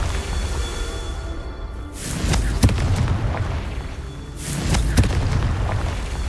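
Confringo spell explosions in the Hogwarts Legacy video game, two booming blasts a few seconds apart, each with a sharp crack and rumbling tail over a low background hum.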